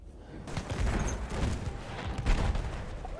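A Martini-Henry rifle fires in a Battlefield 1 match during an armored train fight, sharp gunshot cracks over rolling battlefield noise, with several loud bursts standing out against the busy combat backdrop.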